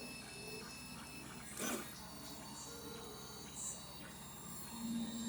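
A PETG-printing Instone Mini 3D printer with an overheating hot end hums and whirs steadily as the hot head moves quickly, with a brief louder burst of motor noise partway through and faint room ambience.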